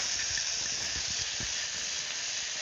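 Sliced onion and onion paste fry together in a pan for Kachalonka mutton, giving a loud, steady hiss and sizzle with faint low bubbling beneath, close and unbroken with no voices.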